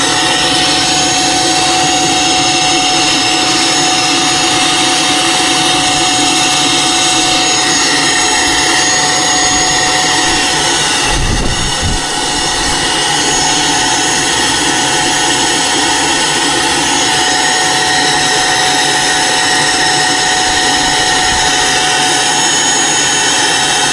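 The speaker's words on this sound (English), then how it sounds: "the rest of this I just gotta kind of clean up with a vacuum" A vacuum runs steadily while cleaning up the remains of a large yellow jacket nest, a loud continuous motor whine and airflow roar with a brief thump partway through and no talking.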